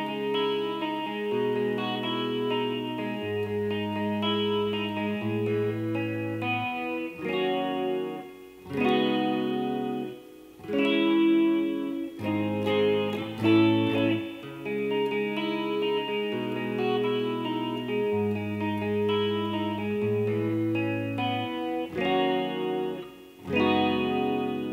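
Electric guitar plays the pre-chorus picking part of a song, sustained notes with a chorus-like shimmer and echo, repeating phrases with brief gaps, no voices.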